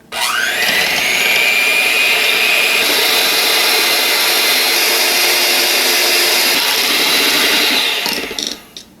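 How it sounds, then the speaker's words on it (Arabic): An electric hand mixer whips cream for a Swiss roll cake filling, a loud, steady high-pitched motor whir running for several seconds before winding down and cutting off. "اضرب بالمضرب الكهرباء، اضرب لحد ما يتكون قوام كريمي."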